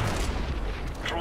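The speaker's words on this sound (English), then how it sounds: "Throwing a grenade!" A grenade in the video game Counter-Strike bursts as a deep, muffled boom that fills a brief moment, loud and close, with a player's voice calling out over it.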